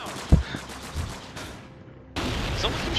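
Gunfire in the video game Call of Duty: Modern Warfare, a few sharp shots followed by dense continuous firing and noisy game action, loud and close.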